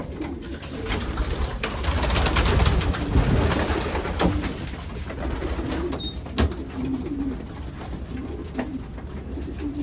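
Pigeons cooing in the hen section of a racing loft, soft repeated coos from several birds close by, with wing flutters and shuffling through a steady background murmur.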